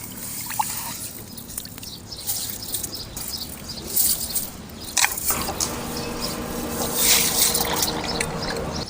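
Soaked horse gram is wet-ground with water splashed in, giving a soft, continuous wet churning and trickling sound with scattered brief clicks. It is moderately quiet and there is no talk.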